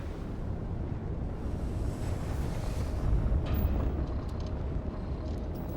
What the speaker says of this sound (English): Spooling up the FTL drives. And jump.